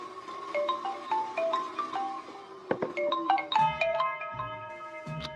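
A melodic electronic ringtone plays in repeated bright tonal phrases, fairly loud and close, with no talking over it.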